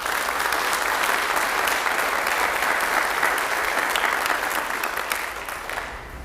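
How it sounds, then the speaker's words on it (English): A large audience at a sheriff's office awards ceremony in a church gives sustained, dense applause, steady for several seconds before easing slightly toward the end. "Please give them a big round of applause."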